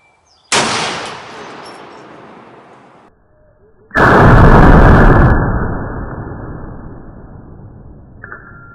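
A big-caliber .50 rifle fires a loud booming shot outdoors, its blast rolling away in a long decaying echo, followed by a second heavier report that roars and slowly fades.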